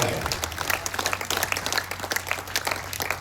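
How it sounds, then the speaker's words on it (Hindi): Applause from an audience at an all-India poetry recital gathering, a dense wash of many hands clapping steadily throughout, fairly loud and sustained. "आप उसके लिए यदि ताली नहीं बजा पाए तो फिर विनीत चांद आप क्या तालियां बजाएं?"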